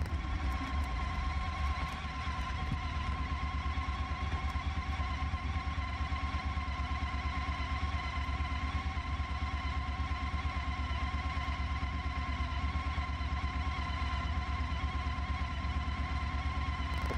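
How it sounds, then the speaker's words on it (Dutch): A Pan European ST1300 motorcycle engine runs at a steady idle, a continuous droning rumble with a buzzy mechanical edge that holds unchanged from start to finish, alone without talk. "De motor dan wel te verstaan."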